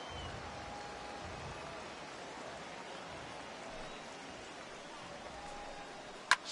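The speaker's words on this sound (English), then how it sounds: "This has got to be the hardest rain we've seen all afternoon." Steady heavy rain pours in a baseball video game, a dense, even hiss that holds through the whole stretch with a brief sharp knock near the end.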